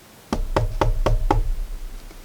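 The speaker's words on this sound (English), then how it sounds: "At last, Grasshopper came to an ant house and knocked on the door." Five firm, evenly spaced knocks on a wooden door, close and clear, with nothing else heard afterward.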